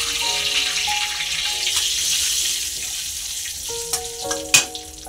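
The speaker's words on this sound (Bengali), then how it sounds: "একটু জিরে দিয়ে ফোড়ন দিলাম।" Bay leaf, a dried red chili and cumin seeds temper in hot oil in a wok, giving a steady bright hiss of frying with a few sharp pops and crackles near the end.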